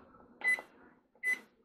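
Two short, bright electronic beeps from a microwave's clock button in a 2022 East to West Alta 2800KBH bunkhouse travel trailer, evenly spaced, near and clear over a faint room hum.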